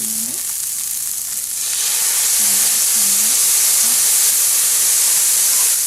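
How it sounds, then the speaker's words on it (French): Light soy sauce hits a hot pan of Cantonese fried rice, setting off a loud, steady sizzle and hiss that swells and carries on close up, with brief faint voices underneath. "Et maintenant, on va mettre la sauce de soja claire."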